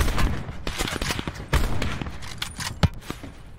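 Gunfire in an online duos shooter match with sniper rifles: several sharp shots at uneven intervals, one loud crack near the end, mixed with quieter pops and footstep-like clatter, no talking.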